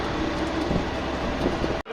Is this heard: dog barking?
no